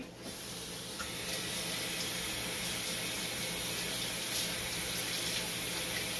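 Steady hissing rush of very hot water pouring from a tap, continuous and fairly close, with no voices.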